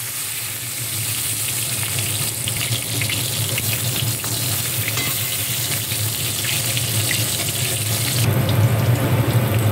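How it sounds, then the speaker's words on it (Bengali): Eggplant slices, seasoned with salt and turmeric, fry in the same oil just used for hilsa fish, giving a dense, loud, continuous sizzle with a hissy, watery texture that swells louder near the end, with no voices. "ওই একই তোলে আমি বেগুনগুলো ভেজে নেব"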